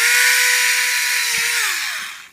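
A loud power drill whines steadily at close range, then its pitch drops as the motor winds down to a stop.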